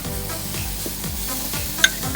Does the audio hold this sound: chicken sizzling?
yes